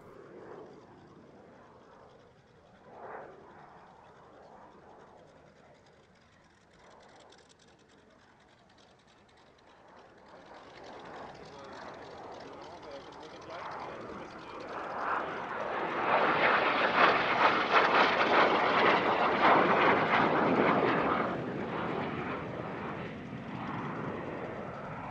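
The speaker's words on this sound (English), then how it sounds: "This is a Canadian license-built Sabre, a CL-13B Mark VI, roughly equivalent to the F-86E" A Canadair CL-13B Sabre Mark VI jet flies at the Air Legend airshow at Paris-Villaroche. Its distant engine roar swells from a quiet rumble into a loud, sustained whoosh, then eases off slightly as the jet passes.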